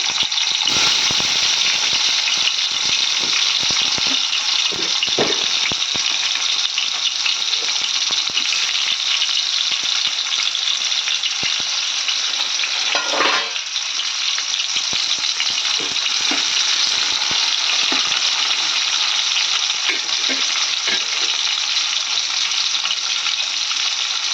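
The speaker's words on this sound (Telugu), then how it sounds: "ఆయిల్ హీట్ అయిన తర్వాతకి వేసుకోవాలి టమాటాలు" Tomatoes fry in hot oil over a high flame, a loud, continuous hissing sizzle with faint crackles and occasional stirring rattles throughout, with no speech.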